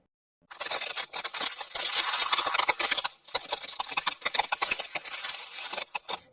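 Dense, crisp crackling and snapping, like ice breaking up, goes on continuously with a brief pause partway through.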